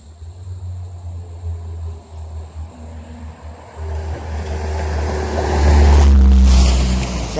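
A vehicle passes near a creek, its low rumble swelling from faint to a loud close roar over outdoor wind and water noise before beginning to fade.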